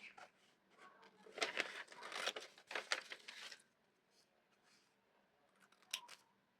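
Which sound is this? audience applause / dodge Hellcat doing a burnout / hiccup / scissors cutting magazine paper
scissors cutting magazine paper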